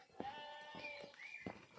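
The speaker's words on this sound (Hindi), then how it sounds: "ये सारी ऊन वाली बकरी हैं" Wool-bearing goats bleating on a roadless mountain trekking trail, two or three drawn-out calls close by with faint background noise and no speech.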